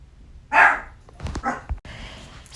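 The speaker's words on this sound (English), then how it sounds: "My dog seems to bark every time he hears something." A pet dog barks indoors, one loud close bark followed by a few shorter, softer yips and muffled sounds.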